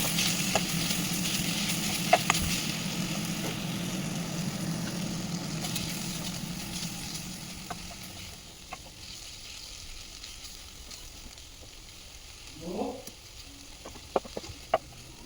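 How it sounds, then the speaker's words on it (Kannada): Fenugreek leaves fry with tempering spices in a pan for methi rice, a close, continuous sizzle that quietens halfway through, with scattered sharp stirring clicks and a short scrape. "ಮೆಂತ್ಯ ಸೊಪ್ಪು ಸೈಡಿಗೆ ಮಾಡಿ ಫ್ರೈ ಮಾಡ್ತಾಯಿದ್ದೀನಿ"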